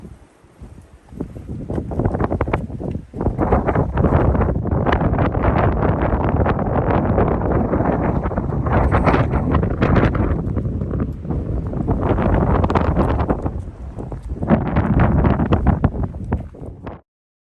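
Strong wind buffets the microphone on a cliff along the Appalachian Trail, loud and roaring in gusts that rise and fall for most of the stretch, with no talking.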